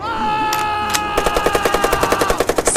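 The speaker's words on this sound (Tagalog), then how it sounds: "Matapang kong hinawakan ang machine gun ko at pumwesto para salubungin ng bala ang pagsalakay ng mga aswang sa amin." Machine gun fire in a Filipino horror audio drama about aswang starts with a few isolated shots, then becomes a steady rapid burst of loud, evenly spaced reports over a sustained droning tone.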